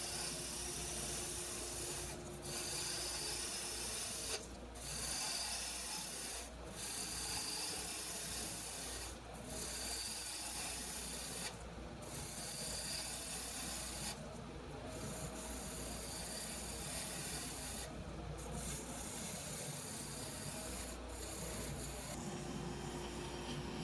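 A maple burl spins on a wood lathe at about 2,000 rpm as a spindle gouge cuts it, a steady rough rasping hum broken by short sharp bursts of cutting, continuous and fairly quiet.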